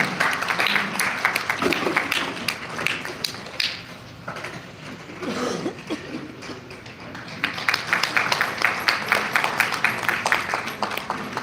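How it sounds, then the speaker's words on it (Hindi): An audience applauds loudly and continuously at an honouring ceremony for a guest in an Indian hall, the clapping dense throughout and dipping briefly in the middle before swelling again. "जोरदार तालियों से अभिनंदन करें"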